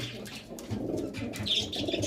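Teddy pigeons coo softly in low, repeated throaty calls, with a faint chirp and background rustle around them.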